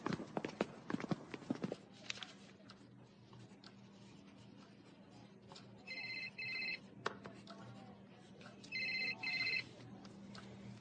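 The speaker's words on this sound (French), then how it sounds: "C'est le téléphone de qui?" A telephone rings indoors in two short electronic bursts separated by a pause, over a low background hum, with brief voices and movement heard just before.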